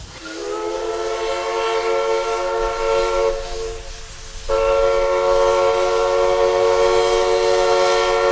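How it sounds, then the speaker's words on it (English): American-style steam whistle on a steam locomotive of the Furka mountain railway in Switzerland, sounding two sustained, loud, chord-like blasts near the listener, with a brief break just before the midpoint and no talking. "The sound of an American steam whistle makes the train seem a little out of place as it heads off to Realp again."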